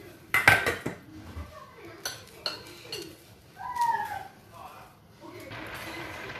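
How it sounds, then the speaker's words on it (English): A metal lid goes onto a pot of sauce on the stove with a few sharp clanks and clatters, and some lighter scraping follows. A faint background hiss comes in near the end. "I will cover the sauce to boil."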